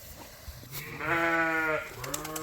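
A Suffolk lamb in a farm pen gives one loud, close, wavering bleat lasting about a second. Fainter bleats and pen noises follow it.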